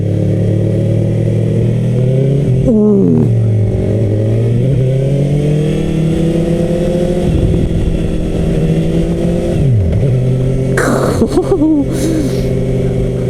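Suzuki GSX-S750 motorcycle ridden and accelerating, with a loud engine drone whose pitch climbs and falls through repeated rev rises and gear changes, under a rider talking throughout and some wind buffeting.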